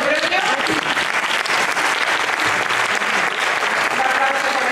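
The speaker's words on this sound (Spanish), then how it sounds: "Un aplauso para ellas." Audience applause fills a youth solidarity and professional awards ceremony, a steady, loud burst of many hands clapping close by without a break.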